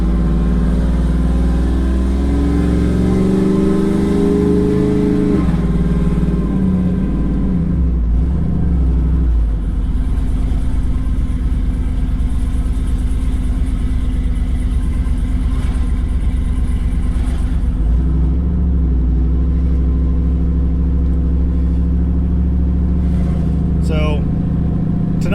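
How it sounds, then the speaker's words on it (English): A truck engine with a fully uncorked exhaust rumbles loud and deep from start to finish, swelling and easing with throttle changes while someone talks over it. "I forgot how really cool this thing sounds completely uncorked."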